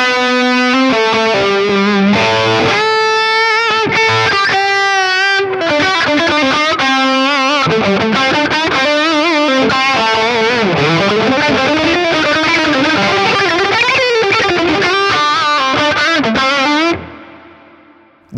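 Electric guitar rings out through a Neural DSP Quad Cortex amp model, drenched in spacious Valhalla DSP reverb with sustained chords and melodic lines, then fades into a lingering tail.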